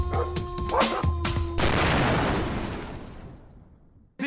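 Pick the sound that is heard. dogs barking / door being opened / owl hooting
dogs barking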